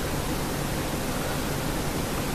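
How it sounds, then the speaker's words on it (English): Tap water runs while hands are washed, a steady, even hiss of flowing water with no pauses or voices. "I just wash my hands."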